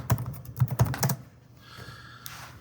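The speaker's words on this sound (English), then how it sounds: "I can type in anything here." Keys clatter on a computer keyboard in a quick run of about six close, crisp taps, then stop, leaving faint room noise.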